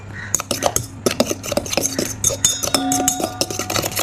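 Sardine, egg and seasoning kikiam mixture stirred in a bowl: a utensil clinks and scrapes repeatedly against the dish in quick, uneven strokes, close and clear, with no talking.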